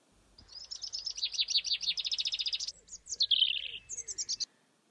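Birds perched in a row outside a window give a rapid series of bright chirps in several bursts, fairly close and clear, with no voices.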